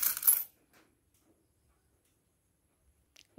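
Coins drop into a coin bank as a short bright metallic clatter in the first half-second, followed by near silence and a faint click at the end.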